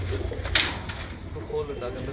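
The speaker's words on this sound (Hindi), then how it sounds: "ये बेबी पिजन ये मेन ब्रीडर कबूतर माशाल्लाह बहुत ज़्यादा पसंद आएंगे" Baby pigeons and main breeder pigeons coo steadily in a loft, a low continuous murmur close by under a noisy background, with a brief sharp knock partway through.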